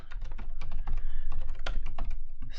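Rapid, steady typing on a computer keyboard, close and crisp, with irregular clusters of keystrokes and a few louder key hits, no one talking.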